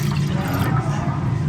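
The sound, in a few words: pouring two glasses of water into a pot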